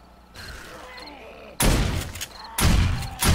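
Gunfire aimed at zombie cops in 7 Days to Die during a blood moon night, with two loud bursts of rapid shots breaking in over quieter background game sounds.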